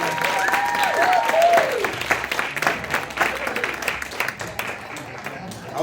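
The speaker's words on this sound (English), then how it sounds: "Give them a big round of applause." Audience applause at a live show at Funda Fest, a crowd clapping and cheering while a voice talks over the noise, which swells and then thins toward the end.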